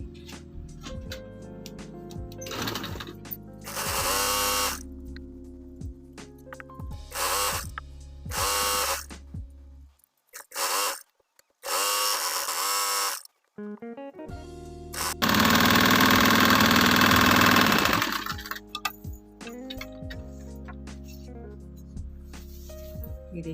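Sewing machine stitching stretched elastic onto a trouser waistband, loud bursts of rapid mechanical whirring alternating with pauses and short handling noises, the longest run near the end.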